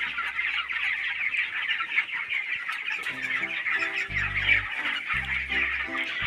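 Poultry farm with roosters and hens kept together: continuous dense clucking from many birds, with a loud close rooster crowing call rising midway and repeating, no talk.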